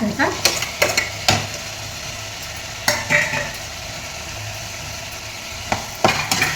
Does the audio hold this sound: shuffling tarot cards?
no